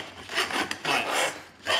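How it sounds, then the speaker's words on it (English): A metal file rasps in repeated back-and-forth strokes on the inside of metal exhaust pipes for a custom Toyota Hilux exhaust, close and scratchy with a steady rhythm. "preparation is key, so we might as well just file out all of the"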